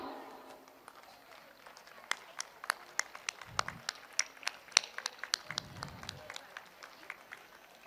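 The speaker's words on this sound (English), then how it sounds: "Please, a clap is needed for our children." Sparse, scattered clapping from an audience for children at a school day celebration, distinct individual claps, fairly quiet and uneven, with faint low rumbles between.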